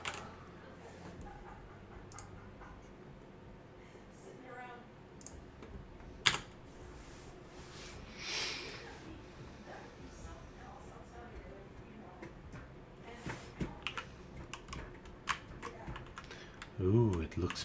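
Keyboard keys and mouse buttons click in sparse, soft bursts during a multi-character EverQuest session, faint under quiet game ambience, with a few denser taps toward the end.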